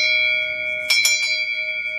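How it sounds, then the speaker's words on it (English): A treat bell rung at home to call puppies: a few quick bright metallic strikes with a sustained ringing tone that lingers, fairly loud and alone. "We ring the treat bell"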